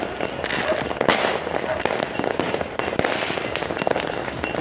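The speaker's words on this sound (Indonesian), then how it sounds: "Puncak Pesta Kembang Api." A New Year fireworks display in Papua crackles with a rapid string of sharp bangs and pops over a constant background roar, loud and dense throughout.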